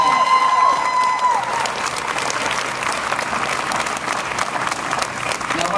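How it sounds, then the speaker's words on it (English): Audience applause at an abortion rally, clapping for physicians in attendance, a dense steady patter from a crowd that holds across the whole stretch with some faint voices mixed in. "could you join me in giving our physicians a round of applause for being here today?"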